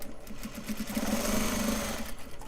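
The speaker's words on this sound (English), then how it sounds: "we're going to sew all the way down this side" A sewing machine stitches steadily down a side seam, its fast motor whir and needle chatter running close and continuous with no talking.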